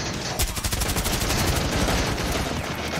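Rapid automatic gunfire rattles through a window in a tactical shooter video game, a loud, dense burst of shots running continuously for about three seconds.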